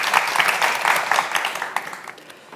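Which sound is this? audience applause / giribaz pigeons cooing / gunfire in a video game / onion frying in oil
audience applause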